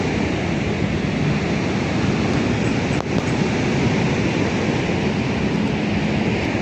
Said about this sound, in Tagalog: Magnificent Niagara Falls.